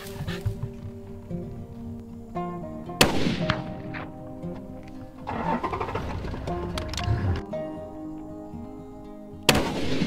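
Rifle gunshot fired during a plains game culling hunt in the open: a sharp, loud crack stands out amid ongoing background noise, followed later by a second abrupt bang near the end.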